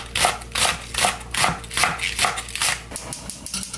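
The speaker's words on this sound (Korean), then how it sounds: "쫑쫑 썰어 놓겠습니다" Steady knife chopping of radish on a board, quick rhythmic strikes about three or four per second, close and crisp with no talking.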